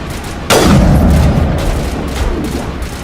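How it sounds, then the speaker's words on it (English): In Mass Effect: Legendary Edition, a single loud, close sniper rifle shot booms out and then rolls off into a long, fading echo. "Sniper rifle it is."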